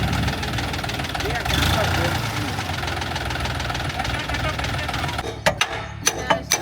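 A tractor engine runs with a knocking, uneven idle while people talk nearby. The engine drone drops away near the end, leaving a few sharp knocks and clatters.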